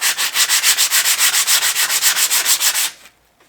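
Rust on a BMW E30 being hand-sanded with 120-grit sandpaper wrapped around a Scotch-Brite pad: about twenty quick, even rasping strokes, close and loud, then a sudden stop.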